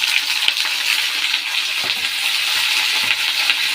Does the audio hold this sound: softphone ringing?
no